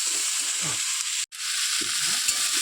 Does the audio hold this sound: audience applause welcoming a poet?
no